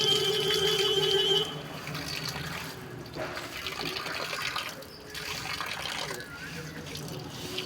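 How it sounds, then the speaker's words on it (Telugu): Water runs steadily from a foot-washing pump at a Shiva temple, a constant splashing flow that is a little fuller at first, then continues as an even outdoor gush. "కాళ్ళు కడుక్కునే పంపు"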